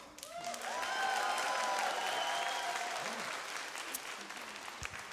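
Warm applause from a comedy show audience swells quickly and holds steady, then tapers slightly, with a few voices and shouts over the clapping.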